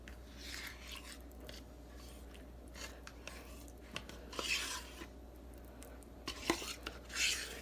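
A spoon stirs 16 ounces of sour cream into a white sauce for chicken enchiladas, giving soft, steady scraping and clinking against the pot with a few louder knocks, with no talking.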